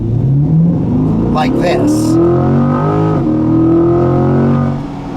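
A 2020 C8 Corvette launching hard in first gear, its engine note climbing steeply and loudly from inside the cabin, while a person talks briefly over the roar.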